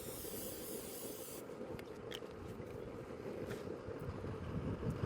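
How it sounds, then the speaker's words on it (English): Non-stick cooking spray hissing onto a warm grill pan, a short steady aerosol burst over a low background rumble, followed by faint scattered taps. "We're just going to spray it with a little non-stick spray."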